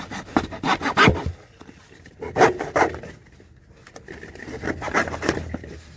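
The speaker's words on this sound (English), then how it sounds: "so I'm going to cut this pipe off so it sticks well into the pit" A hand saw cuts through plastic footer drain pipe at a basement sump pit, giving several short bursts of rasping strokes with brief pauses between them, close and fairly loud.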